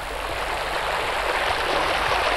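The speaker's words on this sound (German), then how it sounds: "Am Rand eines ausgetrockneten Flussbetts schlängelt sich ein kleiner Bach" A small stream flows beside a dried-up riverbed, a steady, close rushing and gurgling of water that holds level throughout with no voices.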